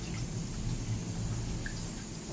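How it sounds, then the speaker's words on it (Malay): Tap water runs steadily into a sink while a wok or pan is rinsed after scrubbing off burnt crust, a soft continuous wash with faint drips near the microphone. "Kita lalukan air."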